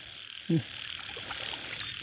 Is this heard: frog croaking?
yes